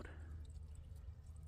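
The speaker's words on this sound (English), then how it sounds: "And there you can see the water flowing out" A backyard drip irrigation system in an Arizona garden lets water out in a faint, steady trickle with a low continuous hum underneath. There are no voices.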